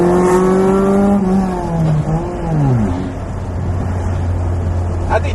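A Honda Prelude cruises in fifth gear, its steady engine drone sliding down in pitch through a gear change before settling into a low, even hum close by.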